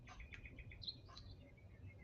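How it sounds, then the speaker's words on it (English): Birds chirp faintly outdoors in sunny weather, giving a few quick, high, scattered tweets over a soft background hush. "it's a nice weather here, sunny, birds are chirping in the wind,"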